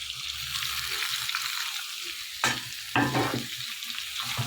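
Chopped tomato is stirred into frying potatoes and onion, a constant oily sizzle with a couple of sharp spatula scrapes partway through.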